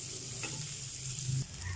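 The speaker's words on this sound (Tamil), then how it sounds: "எண்ணெய் நல்லா சூடாயிடுச்சு இப்போ பூண்டு வெங்காயம் இஞ்சி போட்டுக்குவோம்" Garlic, onion and ginger fry in hot oil for a Korean-style yellowtail scad fish dish, a close, steady sizzle with a brief stirring scrape near the end and no talking.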